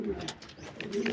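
Pet fancy-breed pigeons coo softly in a short burst, a few low murmuring calls close by, with a voice faintly behind them.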